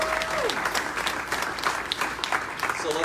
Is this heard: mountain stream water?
no